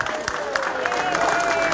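Live concert audience at Patio Sapukai in Roque Saenz Peña applauding loudly, a dense steady wash of many hands with a faint voice or tone running underneath.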